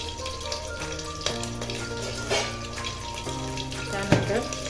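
Whole green chilies dropped into hot oil for a vegetable soybean biryani, giving a steady close sizzle and crackle with a few sharper pops and a sustained hum underneath.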